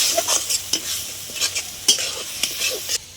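Turmeric, chili, coriander and cumin spice paste frying in a pan, with a soft continuous sizzle and repeated scraping strokes of a stirring spoon at an irregular rhythm, close and moderately quiet.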